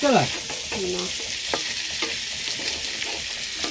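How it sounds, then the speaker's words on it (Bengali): Potatoes fry in a pan with a steady hiss and sizzle, broken by several scraping strokes of a spatula stirring them, close up and with no voices. "দেখুন আলুটা ভাজাভাজি হচ্ছে এবার মশলাটা দিয়ে দেবো"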